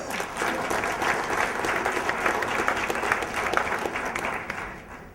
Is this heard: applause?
yes